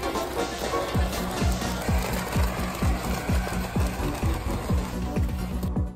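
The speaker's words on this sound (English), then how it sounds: "This device can clear the branches off of tree trunks" A device that strips branches off tree trunks runs with a fast, regular mechanical chattering, about two beats per second, loud and close with a steady engine-like drone underneath; no talking.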